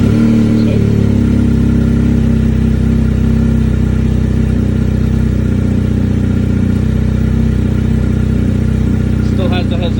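A 2020 BMW R1250 GSA motorcycle engine running loud and close after a hard start, a steady rumbling drone with slight surging revs throughout.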